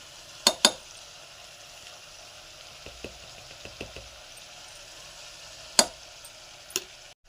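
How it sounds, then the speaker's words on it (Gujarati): A spoon stirs chili, spices and salt into a valor bean curry in a pan, making sparse, sharp clinks and soft knocks against a quiet background. "મરચું, મસાલો બધું નાખી, મીઠું નાખી આપણે બધું મિક્સ કરી દેવાનું છે"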